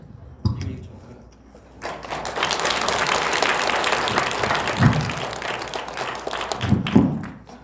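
Audience applause at a Catholic lay representatives' gathering, a sustained burst of clapping from a crowd lasting several seconds, with a few louder thumps near the end.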